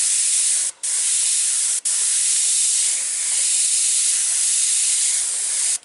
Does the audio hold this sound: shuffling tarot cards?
no